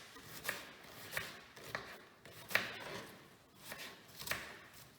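Onion chopped with a knife on a board for guacamole, in a series of faint, fairly regular cuts close by, with no talking.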